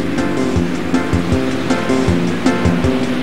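Surf washes against the shore at the seaside in Istanbul, where people fish with hooks, as a loud, continuous rush of water with rhythmic surges breaking every second or so.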